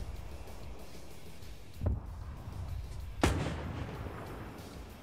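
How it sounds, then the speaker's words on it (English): Tank cannons firing in a WW2 game battle between German and Soviet tanks: two separate heavy booms about a second and a half apart, each a sharp blast with a short rumbling tail over steady battlefield noise. "he's firing at the company command tank now, who is going to return in kind"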